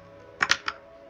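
A few quick keystrokes tap on a computer keyboard as a command is typed in. There are three crisp, close clicks, the middle pair nearly together, over a quiet background.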